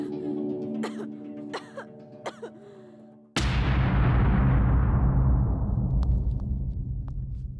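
A woman gives several short, sharp coughs, spaced out, in a horror film scene, followed by a sudden loud rush of broad noise that fills the rest and slowly fades.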